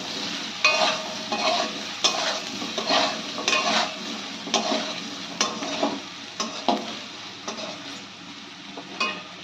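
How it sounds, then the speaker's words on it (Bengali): A spoon stirs turmeric powder into gathi kochu curry with salt and lightly fried taro in a pan, giving repeated scraping strokes in a loose rhythm over a soft, continuous sizzle. "আর দিয়ে দিচ্ছি হলুদের গুঁড়ো। ভালো করে মিশিয়ে নিতে হবে"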